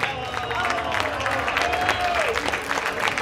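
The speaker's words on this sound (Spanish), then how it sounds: "Yo quisiera pedirles un aplauso para los dos" An audience claps for two contestants at the end of a staged debate about grafting, producing a dense, even wash of applause that holds steady throughout, with a voice briefly audible underneath.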